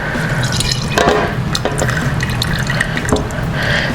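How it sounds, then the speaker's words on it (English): Hot bacon grease poured from a pan into a jar, a continuous close liquid pour with small drips and splashes running steadily throughout. "And now I'm going to add the grease to my jar."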